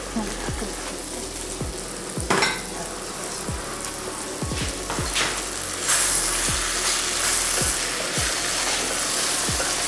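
Sorrel sizzles and crackles in a frying pan, a steady frying hiss with intermittent stirring and clinking thuds, fairly close.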